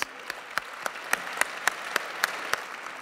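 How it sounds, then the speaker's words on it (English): Applause at a blog awards ceremony, with distinct evenly spaced claps standing out from a softer background patter of the crowd, moderately loud and steady throughout. "Big round of applause."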